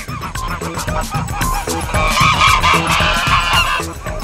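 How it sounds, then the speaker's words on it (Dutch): Geese protecting their goslings honk and call loudly and close by, a busy overlapping chorus of harsh calls that swells toward the middle. "Ganzen dreigen en roepen naar alles wat er dicht in de buurt van de kleintjes komt."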